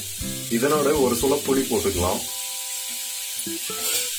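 Beetroot chutney with coconut and coriander leaves sautéing in a pan gives a steady close sizzle. Someone talks over the first half, and there are a few light stirring knocks near the end.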